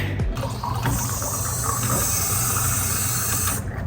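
Water pours steadily into a container with a continuous hissing splash, close and fairly quiet, running for a few seconds before stopping.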